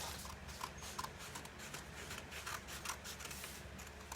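Kids' scissors snip through paper to cut out a butterfly shape, faint repeated crisp cuts in an uneven rhythm over a quiet room background.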